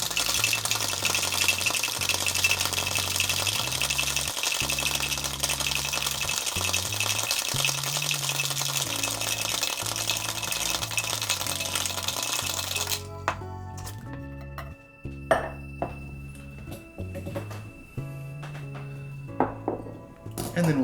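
A gin fizz with egg white is shaken hard in a cocktail shaker: a dense, steady rattle and clatter runs for about thirteen seconds and then stops abruptly, with background music playing throughout.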